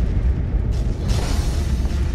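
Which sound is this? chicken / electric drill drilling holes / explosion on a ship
explosion on a ship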